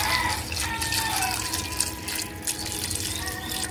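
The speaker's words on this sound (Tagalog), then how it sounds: "lagyan na po natin ng tubig" Water splashes and pours steadily into a pressure cooker holding meat, corn, taro and ginger, a continuous close running-liquid sound with no talk.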